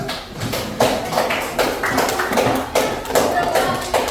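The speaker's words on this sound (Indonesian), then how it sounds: "Kita lakukan tepuk tangan dulu." Group of students clapping hands together in a classroom, a run of sharp claps at a steady rhythm, loud and close, with the group rhythm shifting partway through.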